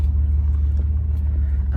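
A small homesteading truck hauling about a ton of water drives along, its engine a steady, close low rumble that fills the whole stretch without a break.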